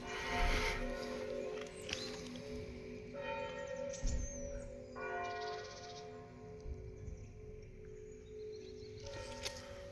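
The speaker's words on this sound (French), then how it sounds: "C'était puissant les cloches." Powerful church bells ringing out repeatedly in the village of Chartrettes, France, rich sustained tones overlapping and ringing on, close and loud, with no talking.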